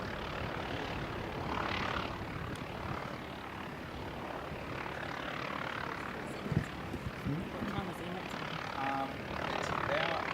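An Emirates A380 airliner on a go-around over the main runway, its engines a broad, steady roar heard from some distance, while people talk quietly beneath the noise.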